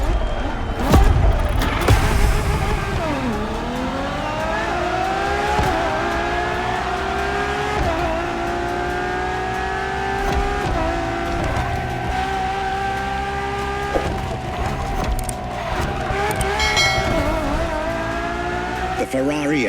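A Ferrari Enzo supercar in The Crew Motorfest racing game revs hard, its engine note climbing and dropping through gear changes, with tire squeal and some background sound mixed in, loud and close throughout.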